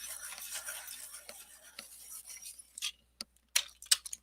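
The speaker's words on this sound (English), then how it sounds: "I'm sharpening my Holbein with a hand crank sharpener." A Holbein colored pencil turns in a hand crank sharpener, making a faint grinding rasp that fades and then gives way to a few brief clicks and scrapes near the end. No voices.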